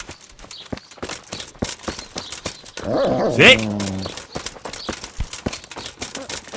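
In the medieval game Kingdom Come: Deliverance, horse hooves clip-clop in a steady rapid rhythm beside a short burst of animal noise, and a voice briefly speaks over it.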